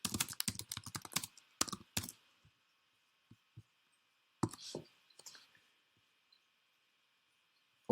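Computer keyboard being typed on, with quick clusters of close key clicks at the start, then sparse scattered taps and another short flurry against a quiet background.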